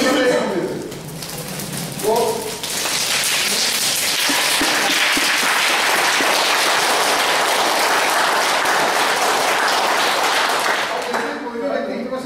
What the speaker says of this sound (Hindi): अपने लिए अलग तरीके से तालियां बजाएं। बोलता हूँ ऐसे पहले एक उंगली से बजाएंगे